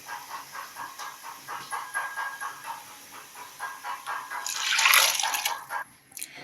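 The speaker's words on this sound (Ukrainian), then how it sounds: "І наливаємо 3 літри води." Water is poured from a vessel into a soup pot over onions, carrots and diced potatoes, giving a gurgling splash that swells into a louder hissing rush before stopping abruptly.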